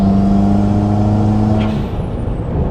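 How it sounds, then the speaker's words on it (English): A Subaru WRX turbo engine drones loudly and steadily nearby, then its blow-off valve releases a brief breathy hiss as the engine tone drops away. "It's a very tunery blow-off valve."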